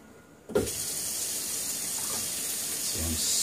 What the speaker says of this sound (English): Some sink water in there.